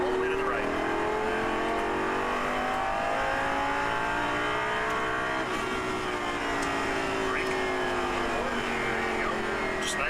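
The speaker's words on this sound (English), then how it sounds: "Accelerate full throttle out onto the front straight." A car engine climbs through the revs at full throttle onto a racetrack front straight, loud and sustained with rising harmonic whine, while a voice talks over it.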